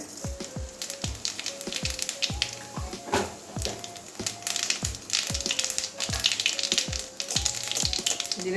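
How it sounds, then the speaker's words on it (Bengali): Whole cumin seeds tempering in hot oil crackle and sizzle close up, a busy sputter punctuated by repeated sharp taps of a spatula against the pan, with no speech. "ফোড়নে গোটা জিরে দিয়ে দিচ্ছি হ্যাঁ যে গোটা জিরে"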